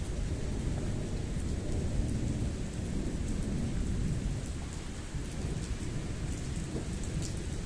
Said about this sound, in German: Mittlerweile schweres Gewitter mit heftigem Starkregen und Hagel.